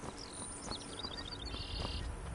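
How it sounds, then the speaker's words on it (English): Birds chirp faintly in the outdoor scenery of the video game Skyrim, with light scattered tweets and short trills over a steady low ambient bed. "did you hear the birds?"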